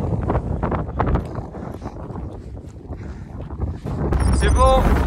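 Strong winter wind sweeps across the Col d'Ayous, a mountain pass, buffeting the microphone with a low, rough roar that swells again near the end. People speak through it.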